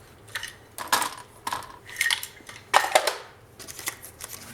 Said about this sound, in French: je vais couper un peu ici